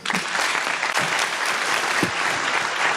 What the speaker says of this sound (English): Thank you for the those- thunderous applause